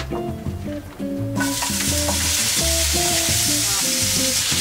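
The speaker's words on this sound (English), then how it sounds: "Onion frying, the best thing ever." Onions sizzle and fry in a hot pan, a loud steady hiss that bursts in partway through over a backdrop of music, with no one talking.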